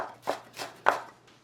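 Knife mincing two cheongyang chili peppers with seeds left in on a cutting board: three soft, spaced chopping strokes, close and moderately quiet, with no talking.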